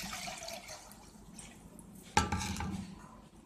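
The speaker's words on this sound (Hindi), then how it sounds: "एक देगची थी, उसमें हमने ये 1 लीटर पानी डाल दिया" About one litre of water is poured into a metal cooking pot for a green mango drink, giving a soft trickle that ends in a sudden louder splash and slosh near the end.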